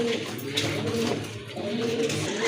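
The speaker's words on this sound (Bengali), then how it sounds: "অসাধারণ কোয়ালিটি কবুতরের" Pigeons offered for sale coo steadily and close by, their low throaty calls overlapping throughout with no talking.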